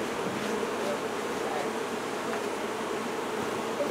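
A dense, steady buzz of many honeybees swarming close by at a barrel hive while smoke is used on them, continuous and droning with no voices.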